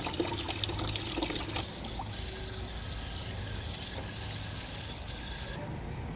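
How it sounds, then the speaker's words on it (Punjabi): Onions, tomatoes and green chillies are rinsed in running water, a steady close splashing and trickling that drops slightly in level partway through, with no talking. "ਪਿਆਜ਼ ਤੇ ਟਮਾਟਰ ਤੇ ਹਰੀਆਂ ਮਿਰਚਾਂ ਧੋ ਕੇ ਲਿਆਉਂਦੀ ਆ"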